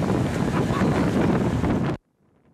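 Strong wind buffets the microphone on a cold winter beach by the Black Sea at night, a loud, steady roaring rush that cuts off abruptly into near silence.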